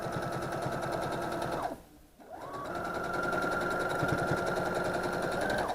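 A sewing machine stitches through a quilted pillow top in a rapid, steady whir, pausing briefly once before resuming its even mechanical hum at close range.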